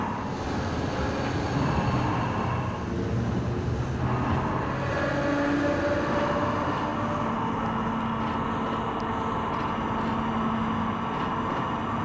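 A train in the Trainz 22 simulator climbs a grade with a steady, loud rumble and rolling rail noise throughout, with no talking.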